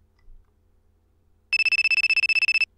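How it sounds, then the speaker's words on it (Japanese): A telephone ring after a quiet pause: a loud, close, rapid trilling electronic bell burst lasting about a second, in an otherwise silent setting. "電話の音に思わずビクッとした。"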